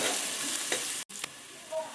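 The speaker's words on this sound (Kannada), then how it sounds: "1-2 ನಿಮಿಷ ಫ್ರೈ ಮಾಡ್ತೀವಿ" Ingredients for dal khichdi fry gently in a pan, a soft steady sizzle with a faint stir, broken by a brief silent gap near the middle.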